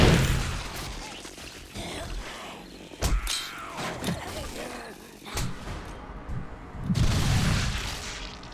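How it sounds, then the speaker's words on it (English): Grenades dropped down a hole explode among a horde of zombies in 7 Days to Die, Alpha 18, beneath a horde base; several booming blasts and clattering bursts come in uneven succession at close range, with a loud final burst near the end. "see what happens when he decides to drop grenades down there"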